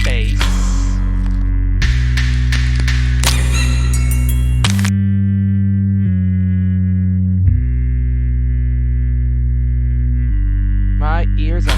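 A deep, heavy bass beat in the Incredibox Express music game, Demon Dream style, pulses under a layered electronic mix with tonal synth parts and effects, loud and steady throughout.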